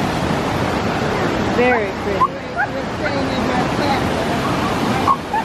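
The waterfall at Canyon Falls roars as a loud, steady broadband rush that fills the whole scene, nearby and constant, while a person briefly speaks over it and birds chirp faintly.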